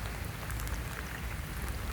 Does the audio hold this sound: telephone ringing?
no